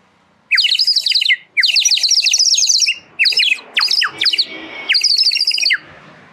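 A traditional clay water whistle filled with water and blown, giving bursts of warbling, bubbly trills that mimic sparrow chirps; five or six loud, close phrases separated by short pauses, with no talk.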